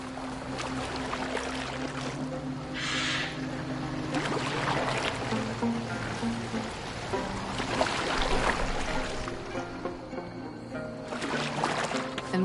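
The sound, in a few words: boat moving on water in Assassin's Creed Valhalla video game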